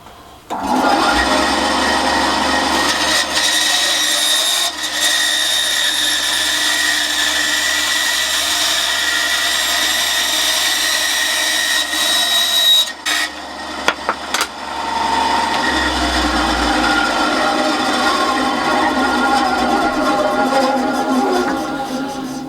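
A power tool runs steadily while cutting wood for a small handmade candle holder in a shed workshop. The whining, buzzing drone continues for most of the time, broken by a short pause with a few knocks midway.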